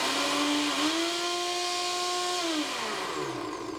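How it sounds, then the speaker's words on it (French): A blender motor whirs steadily as it mixes food in a jar, a loud sustained whine that holds one pitch and then dips and winds down near the end, with no talking. "vous fixez votre bocal sur votre blender et une fois que c'est fait vous pouvez commencer à mixer"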